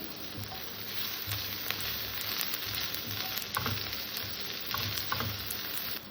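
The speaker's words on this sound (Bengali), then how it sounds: "পেঁয়াজটাকে আমি ভেজে নেবো ভালো করে" Chopped onion with a pinch of salt fries in a pan, giving a steady, close, even sizzle that holds for the whole stretch with no talking.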